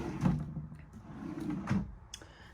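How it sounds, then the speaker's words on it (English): Soft-close drawers and cabinets in a 2023 Tiffin Allegro Bus 40 IP motorhome, with a few soft slides and muted thuds at close range and a faint click near the end. "Easy close drawers."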